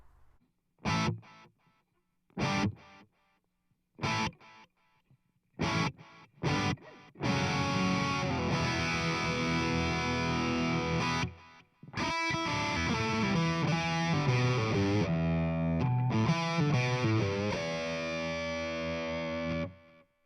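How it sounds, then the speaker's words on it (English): Electric guitar played alone through a Flashback Mini modulation delay pedal, first in short plucked bursts with gaps, then sustained chords trailing into shimmering, chorus-like delayed repeats. "The delay is a modulation delay. It's got some classic chorus coming through on the repeats."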